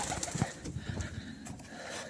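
Faint pigeons coo softly amid a light rustle and brief flutter of wings, quiet and somewhat distant.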